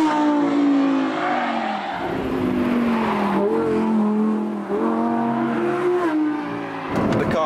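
An Audi R8 evo's engine revs hard, with rising pitch sweeps broken by abrupt, quick gear shifts and a brief tyre squeal, loud and close with no talking.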